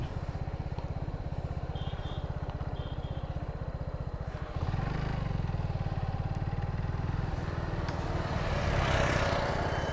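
A motorcycle engine runs steadily throughout, a close, even low throb that grows slightly louder and rougher partway through, with no talking.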